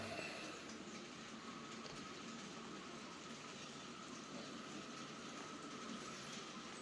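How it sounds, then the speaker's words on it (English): Model railway trains, including a First Great Western Class 150 DMU, run around a fiddle yard layout, giving a steady, close rolling hum and rumble with faint rail clatter throughout. "There's also 150 First Great Western DMU running around"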